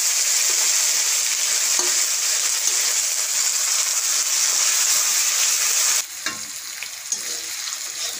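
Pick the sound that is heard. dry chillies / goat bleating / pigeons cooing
dry chillies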